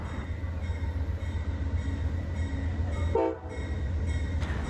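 Amtrak P42DC diesel locomotive in Phase 7 heritage livery running by, a steady loud rumble of engine and rolling stock with a brief horn-like tone near the end, no talking.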